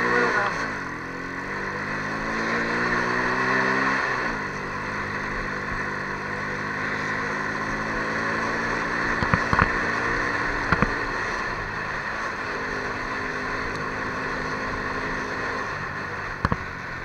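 An Italika XT110 motorcycle engine drones steadily while riding, climbing in pitch through the gears with a shift around four seconds, then holding a constant hum near the rider.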